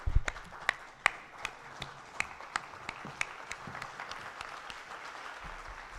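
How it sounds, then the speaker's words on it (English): A room of summit attendees gives a standing ovation: a soft, steady bed of clapping from a large crowd, with distinct sharp individual claps popping out close by and irregularly throughout. "a big round of applause for all of us in this room"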